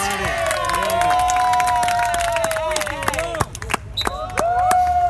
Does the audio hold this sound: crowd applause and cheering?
yes